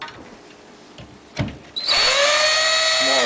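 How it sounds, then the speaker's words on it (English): Power drill boring a pilot hole in a kitchen cabinet during a remodel: after a couple of faint knocks, the drill whirs up loudly and runs steadily for over a second. "when you drill the hole, you don't want to split out the inside edge"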